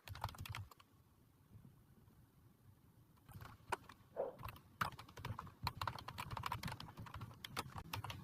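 Python code being typed on a computer keyboard, quick irregular clicks of close keystrokes in bursts, quiet at first and then denser and louder, with no talking.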